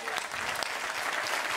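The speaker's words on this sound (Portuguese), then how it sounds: "Uma grande salva de palmas para a Rafaela." Applause from a television game-show studio audience cheering dancers, a dense steady wash of many hands clapping at full volume throughout, with no voices standing out.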